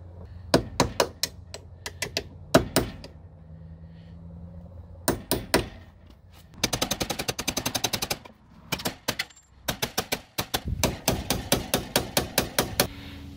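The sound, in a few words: hammering plastic sheath onto Jeep Cherokee XJ door hinge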